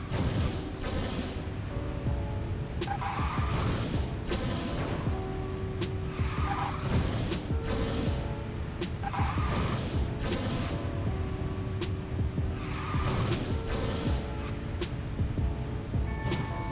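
Cars in the mobile racing game Garena Speed Drifters skid and squeal their tires through repeated drifts, with sharp recurring screeches over a constant engine drone and game music, loud and close throughout.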